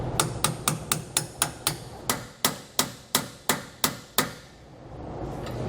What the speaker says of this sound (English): we're going to tap it in with a hammer.